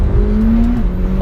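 A McLaren 720S engine pulls hard under acceleration, a loud, close, rising engine note that holds strong through a brief burst.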